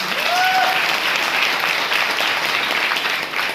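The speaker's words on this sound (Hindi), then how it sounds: "इसके लिए जबरदस्त ताली बजाएंगे।" An audience claps loudly and steadily at a Safeshop leadership event, honouring a triple diamond member. The applause holds as an even wash for the whole stretch, with no talk over it.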